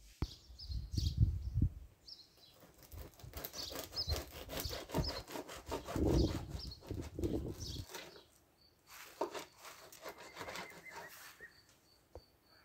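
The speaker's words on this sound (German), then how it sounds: "dann schneiden wir das Brot natürlich endlich auch an" A knife saws through a loaf of homemade, no-knead mixed-grain bread with repeated rasping strokes, a close rhythmic scraping against the crust that pauses briefly and then resumes.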